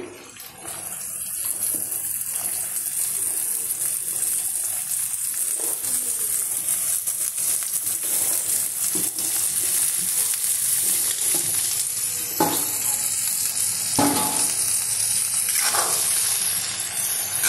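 Cauliflower florets dropped into a pan of frying garlic set off a continuous bright sizzle, with occasional stirring scrapes and clinks over the steady hiss.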